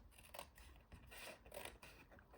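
Scissors slicing 6x6 paper along a score line, a series of soft, rhythmic rasping cuts up close, steady and quiet, with no talking.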